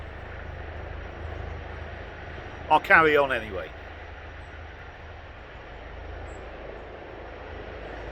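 A steady, broad engine drone of a helicopter passing overhead fills the whole stretch, with someone briefly speaking partway through.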